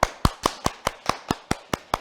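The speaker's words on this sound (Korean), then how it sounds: "그럼 큰 박수로 김수영 교수님을 모셔볼까요?" A few hands clap in a steady, evenly spaced rhythm of about ten sharp claps to welcome a lecturer, a professor, with no talk over them.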